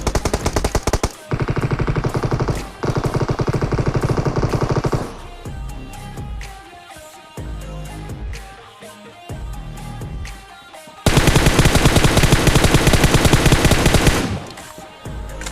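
Groza assault rifle fire in the mobile battle royale game PUBG Mobile: loud, rapid automatic bursts in several long strings separated by brief gaps and quieter game noise.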